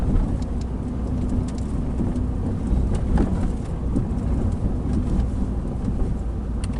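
A Nissan Primera engine runs in third gear at 2000 RPM on a country road, giving a steady, loud low drone with broad road and wind rumble, heard from inside the car with no talking.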